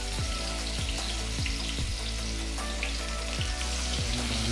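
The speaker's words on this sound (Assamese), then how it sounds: "তাৰ পিছত মাছখিনি ফ্ৰাই কৰিম তেলত" Pieces of fish frying in hot oil in a home kitchen for an Assamese fish curry, a steady loud sizzle with several sharp crackling bursts as pieces are added, no talking.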